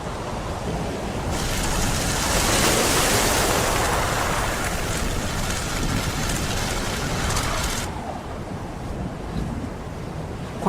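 Storm wind roars around a boat at Puerto Deseado, a broad continuous rush that swells loudly for several seconds before easing to a lower steady blow.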